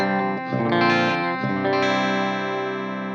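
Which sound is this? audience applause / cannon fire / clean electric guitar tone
clean electric guitar tone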